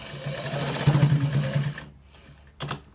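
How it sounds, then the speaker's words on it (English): A sewing machine runs steadily while stitching white trouser fabric, a close, loud whirring drone for nearly two seconds before stopping, then a brief second burst of mechanical sound. "Look at how I am stitching it carefully"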